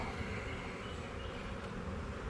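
Honey bees swarm around an open hive on an overcast day, a steady, dense buzzing drone that stays close and continuous throughout without any voices.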